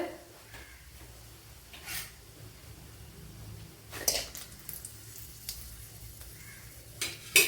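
Dried red chillies fry in coconut oil in a pan, giving a faint, low sizzle broken by a few louder stirring clatters and scrapes near the start, middle and end.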